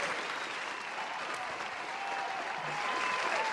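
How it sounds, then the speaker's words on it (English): Applause sound effect dropped into a podcast: a steady, even roar of many hands clapping, moderately loud and sustained for a few seconds, with no talk over it. "I'm hitting a round of applause for that because it's important."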